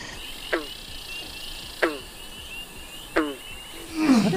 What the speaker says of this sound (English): Probably some weird kind of frog.